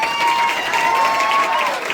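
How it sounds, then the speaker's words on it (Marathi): A crowd at a gathering in Khed taluka, Maharashtra, applauds a student, with dense, loud clapping and some cheering that holds steady for about two seconds. "तिच्यासाठी जोरदार टाळ्या वाजवा"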